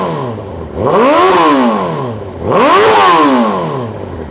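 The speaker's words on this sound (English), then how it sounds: "I'll give her a quick rev just for you guys to have a hear. So this is a Yoshimura exhaust." A 2015 Honda CBR1000RR Fireblade with a Yoshimura exhaust is revved twice, each loud, close rev sweeping sharply up and falling back to idle.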